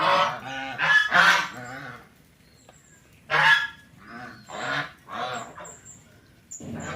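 A flock of domestic geese honks nearby in loud, separate bursts, several calls in a row with short pauses between, the honks coming from more than one bird.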